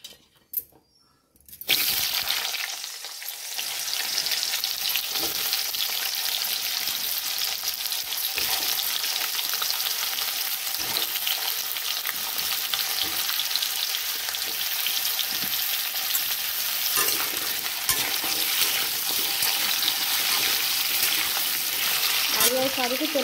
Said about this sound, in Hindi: आलू और सारू को तेल को भल भाव में भाजीदे